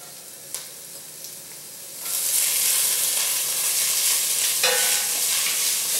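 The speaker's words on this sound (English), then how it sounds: "I'm going to throw in julienned carrots in multiple colors" Julienned multicolored carrots hit a hot pan in a vegan Thai curry, setting off a loud, steady sizzle and hiss with stirring scrapes, after a quieter background frying.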